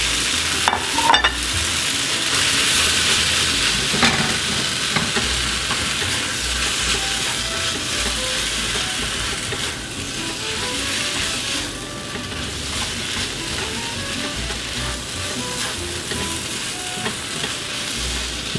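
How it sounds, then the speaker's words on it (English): Eggs and tomatoes stir-fried in a wok, a loud continuous sizzle with scraping stirs of the spatula throughout, close up and with no voices. "We're gonna put our eggs back in."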